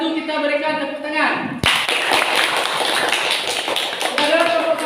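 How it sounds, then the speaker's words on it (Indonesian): A classroom bursts into applause for the first student group, a steady mass of hand clapping that follows a spoken voice at the start and carries on under some talk. "jadi kepada untuk kelompok 1 kita berikan tepuk tangan"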